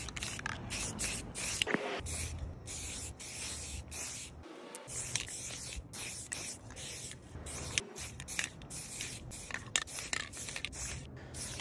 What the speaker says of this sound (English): spray some white spray paint, along with some gold spray paint and some black spray paint